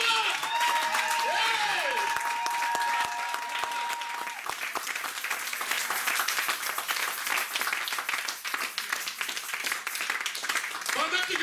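Worshippers at a French-language church service break into loud applause and cheering, dense clapping rolling on for several seconds while a voice shouts over it early on.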